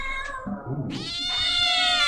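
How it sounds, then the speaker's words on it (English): Cat meows played as a sound effect during a live radio show, a couple of drawn-out, high tonal cries rising in loudness and sustained to the end, alone without talk. "know how to make the dogs go nuts with your cat noises"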